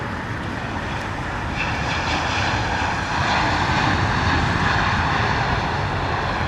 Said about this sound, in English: Beautiful A321 Neo coming in here from Mia